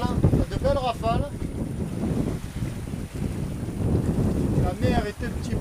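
Wind gusts buffet a sailboat at sea in choppy water, with rough blustery rushing and microphone buffeting close by under intermittent talking.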